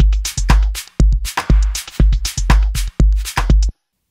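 A produced electronic drum beat with heavy sub-heavy kicks, reverb and sidechain pumping, hits falling in a steady punchy rhythm for several bars, loud and close, then stopping abruptly.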